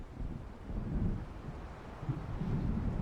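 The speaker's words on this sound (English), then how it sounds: "It seems there's a storm coming." Low rumbling thunder from an approaching storm in Alan Wake Remastered rolls on continuously, a deep, steady, muffled roar with swelling surges and no voices.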